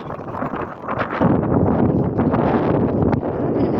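Gusty wind blowing outdoors along an overgrown grassy path, a broad rushing buffet against the microphone that swells after the first second and stays steady and fairly close, with faint rustling mixed in.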